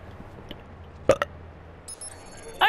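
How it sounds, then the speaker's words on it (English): One short, sharp burp rises out of a quiet Watch Dogs gameplay session, followed by faint scattered game sounds. "I burped."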